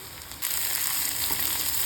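Tomato drops into onions frying in a pan, and the quiet background sizzle jumps to a louder, fuller hiss that holds steady afterward.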